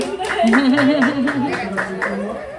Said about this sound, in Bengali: হাততালি দাও সবাই, হাততালি দাও সবাই